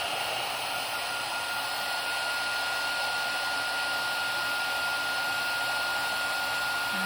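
A heat tool warms Distress embossing glaze to set it, giving a steady, loud blowing whoosh that runs unbroken and close for the whole stretch with no talk.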